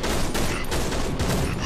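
Rapid bursts of gunfire from the horror video game Cry of Fear, a loud, dense fusillade of overlapping shots with no pauses.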